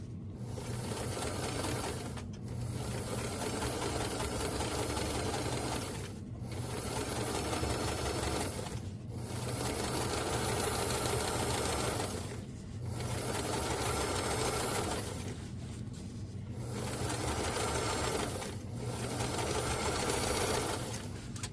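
A sewing machine runs in steady bursts while stitching a new zipper into a winter puffer coat with leather piping, its motor humming for a few seconds at a time between short pauses.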